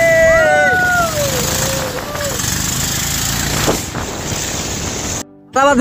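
A boat motor drones steadily as the boat travels on a river in Bandarban, Bangladesh. Wind noise runs over it, with a few brief whistling tones early on and a short dropout near the end.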